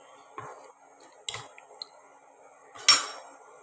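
A utensil stirs grated coconut in a pan, making a few sparse scrapes and light clinks against the metal, close and fairly quiet, with no talking.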